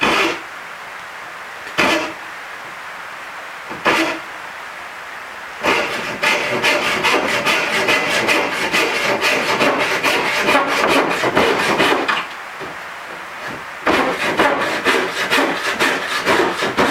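Small saw cuts into a piece of wood for a small carved hook: brief scraping strokes at first, then a long run of rapid rhythmic rasping, a pause, and more close sawing.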